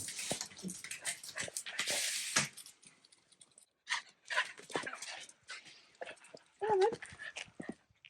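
Dogs whimper and pant in short, broken bursts close by in a garden setting, with brief gaps of near quiet between the whines and some rustling.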